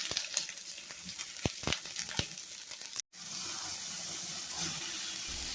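Onion fries in olive oil in a home kitchen pan, giving a quiet, steady sizzle with brief clicks and stirring scrapes, broken by a short cut partway through.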